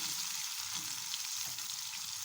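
Onions fry in oil for a country chicken curry, giving a steady, close sizzle with a bright hissing crackle and no talking.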